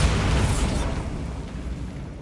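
A Bombarda spell explosion in Hogwarts Legacy erupts as a single loud, deep blast that rolls into a long rumbling decay, with no voices over it.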